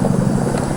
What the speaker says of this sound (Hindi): चिनूक हेलीकॉप्टर्स उड़ते हुए आप देख सकते हैं